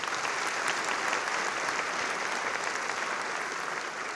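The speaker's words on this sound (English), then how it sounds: "Let's give them a round of applause." Applause from the audience at a community state-of-the-community event, a steady even wash of many clapping hands that holds for several seconds at moderate distance, with no talking over it.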